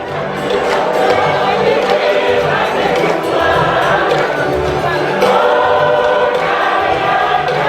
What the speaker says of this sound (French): Monseigneur Benjamin Ndiaye donne la bénédiction finale au peuple de Dieu et reçoit à son tour ses acclamations.